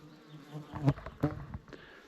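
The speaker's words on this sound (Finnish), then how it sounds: "Siellä Apis mellifera, eli tämmönen tarha mehiläinen, hunaja mehiläinen ehtii." Western honeybee buzzing close by among raspberry plants, a faint steady hum with two louder swells as it moves past.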